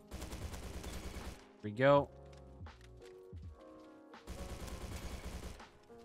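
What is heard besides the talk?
Sten gun firing in Roblox video game Bad Business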